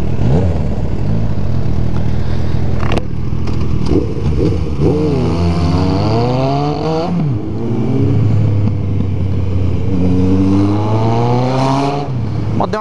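A motorcycle engine with a suspected fuel pump problem, loud and close, revving up and down in rising and falling sweeps with stumbles and misfires that break the rhythm, running continuously throughout.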